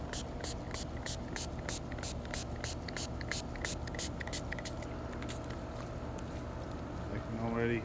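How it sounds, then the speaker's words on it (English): Funk Out Extreme degreaser sprays from a new, unlabeled bottle in a rapid series of short, hissing pumps, over a steady low background hum. "Whoops, I'm spraying myself."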